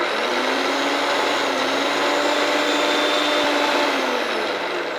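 An electric mixer beats eggs for mayonnaise, giving a steady, loud motor whine with a continuous hum that holds nearly constant in pitch, heard alone without talk.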